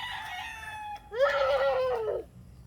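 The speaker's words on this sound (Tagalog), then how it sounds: "You scared the chicken" Chickens call out in two loud, close bursts, the second a longer drawn-out crow-like squawk, with a short quiet gap between them.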